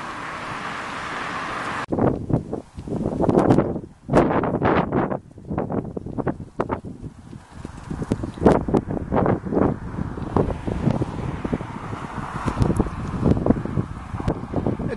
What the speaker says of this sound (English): While it's windy, the trees are blowing.